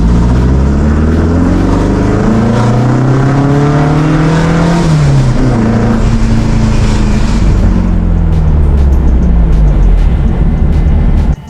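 Loud, close engine roar from a modified VW Brasília tuned for a Porsche-like sound, climbing through several rising revs and shifts before easing toward a lower drone, with no talking.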